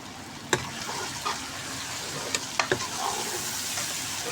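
Chopped tomato, garlic, ginger and green chili stirred in a hot pan: continuous sizzling hiss broken by several sharp spatula taps and scrapes against the pan, close and steady.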